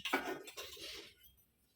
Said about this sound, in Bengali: আমি একটা ফুটো করা গামলা বসিয়ে দিচ্ছি